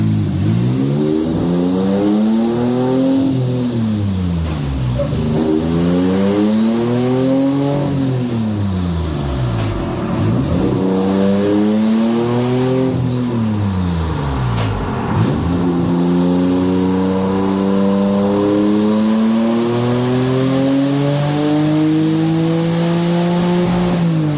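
A twin-turbo J35 engine in a sand car revs hard through repeated rising pulls, each climbing sharply then dropping as it shifts, loud and close with turbo whistle above the roar.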